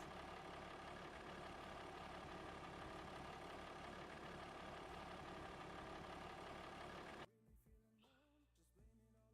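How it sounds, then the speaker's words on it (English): A tractor engine idles in the Farming Simulator 25 video game, a dense steady low rumble that holds loud and even for about seven seconds before abruptly dropping away to quieter game sounds. "Oh, you hear the tractor now?"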